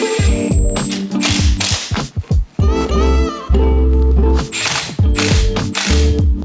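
A ratchet clicks in quick bursts while tightening new screws on a turbo inlet pipe in a 2023 Civic Type R engine bay, with several close, loud runs of rapid pawl clicks separated by short pauses.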